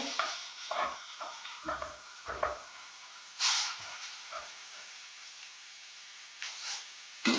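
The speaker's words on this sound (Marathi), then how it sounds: "कांदा मिरची लसूण आता चांगला भाजला आहे तर आता मी यात भाजी टाकून घेते" Chopped pumpkin tipped into a pan of fried onion, chili and garlic and stirred, giving quiet intermittent scrapes and soft sizzling bursts, fairly faint and close.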